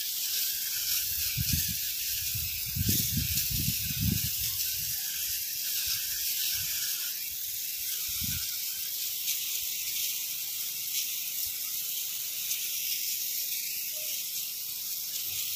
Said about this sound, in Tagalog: Kailangan talaga dyan power spray.